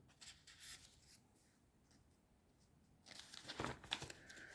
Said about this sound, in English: Tells me I'm having problems turning the page here.